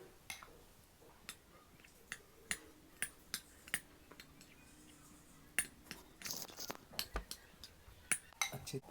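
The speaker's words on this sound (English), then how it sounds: "Now guys, I am mixing" A spoon mixes a white mayonnaise vegetable sandwich filling in a bowl, making a string of light, crisp clinks and taps against the bowl that come faster toward the end, quiet and close, with no talking.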